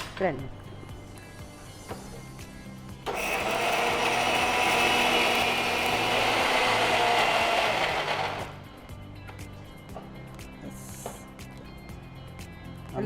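A kitchen mixer grinds urad dal and coriander into masala, a loud whirring burst running several seconds, rising and then cutting off, with quieter kitchen sounds before and after.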